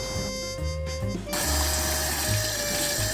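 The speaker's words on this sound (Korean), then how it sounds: "소금에 절인 고등어는 깨끗이 씻어" Salted mackerel rinsed under a running kitchen tap, a steady close rush of water that opens up fuller and louder partway through, with no voices.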